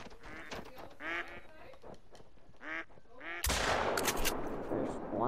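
A Cacciatore 12 gauge shotgun in a duck hunting video game fires one loud blast after a run of duck quacks and honks, followed by lingering outdoor noise.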